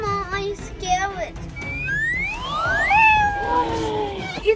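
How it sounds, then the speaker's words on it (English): A cat meows repeatedly in rising, drawn-out calls, close and fairly loud, with children talking excitedly around it during a playhouse game. "It's a cat!"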